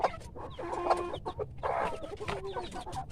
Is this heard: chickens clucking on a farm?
yes